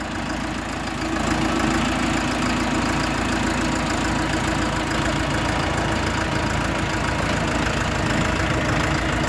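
An Orion RD-404 four-cylinder 40-horsepower four-wheel-drive mini tractor's diesel engine idles steadily, a close, loud, even chugging drone with a faint knocking rhythm and no one talking.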